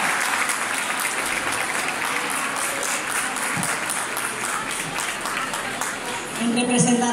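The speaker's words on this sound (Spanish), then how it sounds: "Un aplauso, por favor" Sustained applause from an audience at a wine festival celebration, loud dense clapping throughout, with a voice emerging near the end.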